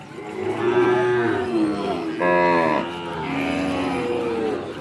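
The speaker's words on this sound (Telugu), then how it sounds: "ఇది ఆవుల సంత" Several Ongole cattle, cows and calves, mooing loudly in turn at a cattle market in Kodad, long low calls overlapping with a busy outdoor crowd murmuring in the background.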